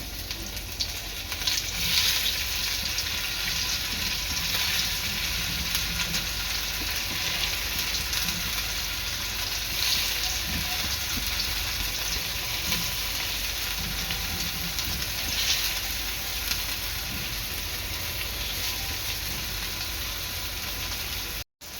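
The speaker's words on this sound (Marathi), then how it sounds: "तेल चांगलं गरम झालेलं आहे आता पनीर आहे ना आपलं तळून घ्यायचं आहे" Paneer slices frying in hot oil, a steady close broadband sizzle that holds evenly throughout with no talk.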